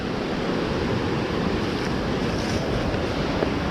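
A mountain stream rushes in a steady broadband wash at a late-summer fishing spot, loud and close with no voices or breaks.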